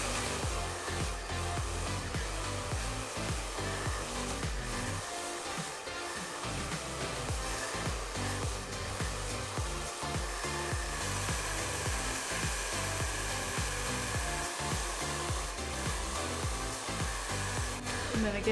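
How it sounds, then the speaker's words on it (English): A handheld hair dryer blow-drying fine hair with a round brush runs steadily and loudly throughout, a constant close whooshing drone with slight shifts as it moves along the head. "I'm gonna blow dry a little further up the head"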